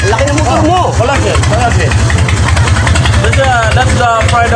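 Harley-Davidson big bike engine running with a steady low throbbing rumble close by, loud and continuous, while people talk and exclaim over it throughout.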